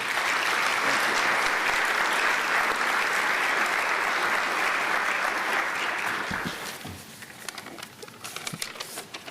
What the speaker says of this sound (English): You guys could put your cameras down and clap a little bit.